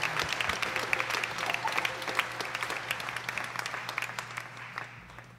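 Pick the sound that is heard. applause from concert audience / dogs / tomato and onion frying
applause from concert audience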